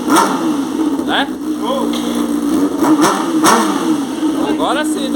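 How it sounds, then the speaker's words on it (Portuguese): A Honda CBR600 motorcycle engine revs up and down in several throttle bursts over a steady idle, with voices talking nearby. "Dá uma acelerada pra ver como é que fica lá."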